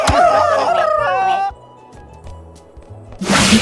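Cartoon pigeons cluck and coo loudly in an attack scene from the video game Miraculous: Rise of the Sphinx, a burst of bird calls over voiced game speech, then quieter music and a final loud rush of noise.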